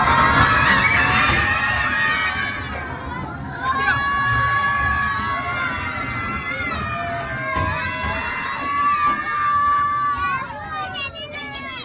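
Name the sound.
children shouting on toy train in tunnel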